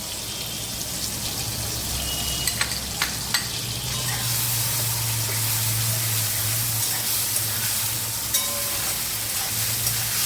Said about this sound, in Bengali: তো চলো এইটাকে আবার একটুখানি ভাজা ভাজা করে নিই